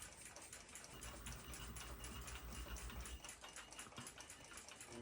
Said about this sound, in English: I'll remove the ridges with some sandpaper so it'll run true in the lathe.